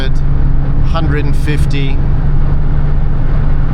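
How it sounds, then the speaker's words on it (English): A Mercedes W124 driving at full throttle on the Autobahn, heard from inside as a loud, steady engine drone and road roar with a constant low hum, while a voice briefly calls out a speed. "I'm going to put my foot down just to let you see how this car accelerates"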